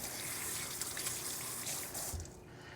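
Yellow squash is rinsed under a running kitchen tap, a steady close gush of water splashing over the vegetable, easing off near the end, with no one talking.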